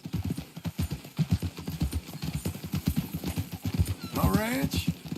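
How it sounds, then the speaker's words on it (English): Horse hooves clip-clop steadily alongside a neighing whinny near the end in the Western game Red Dead Redemption 2, with characters talking over the riding sounds. "That new horse?"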